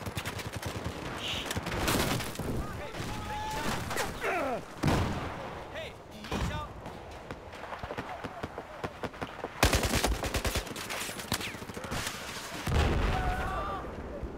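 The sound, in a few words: UTS-15 shotgun fire in the video game Battlefield 4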